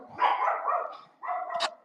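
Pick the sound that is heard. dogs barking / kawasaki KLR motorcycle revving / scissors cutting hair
dogs barking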